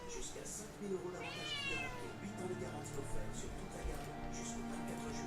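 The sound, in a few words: cat meowing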